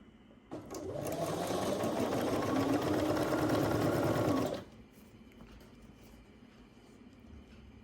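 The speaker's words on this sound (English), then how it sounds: "And let's sew this down." A sewing machine stitches a quilt block for a Tree of Life pieced quilt, running in one steady, close, loud whirring stretch of about four seconds before stopping into near silence.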